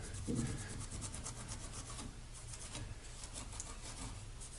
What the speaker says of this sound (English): get as much of this bright paint scuffed up as possible